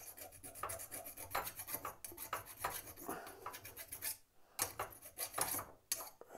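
A file rasps paint off the tops of fan blades in quick repeated close-up strokes, a scratchy rhythmic scraping that pauses briefly before resuming.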